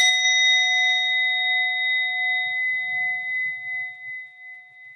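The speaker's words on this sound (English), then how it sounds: "And I'll start the meditation with the sound of a bell." A single meditation bell struck once at the start, ringing clear and sustained with a bright metallic tone that slowly fades over several seconds in a quiet room.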